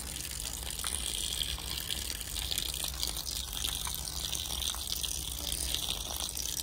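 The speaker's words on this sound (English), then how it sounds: "Just in this water trough." Water runs steadily into a livestock water trough, a continuous close-up rush and gush that stays even from start to finish with no talking over it.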